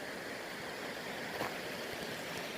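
A river running high with winter water rushes steadily in a constant broadband roar, close and even throughout with no voices.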